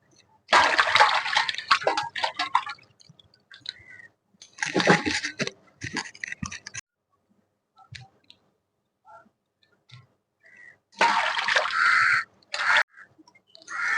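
Pieces of Blood Carp fish are rinsed in water by hand, with three loud bursts of splashing and sloshing separated by quiet pauses and a few small clicks.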